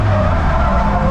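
A Pro D1 drift car skids in fourth gear at Ebisu, making a loud sustained tire roar mixed with engine noise, steady and close, over a brief moment.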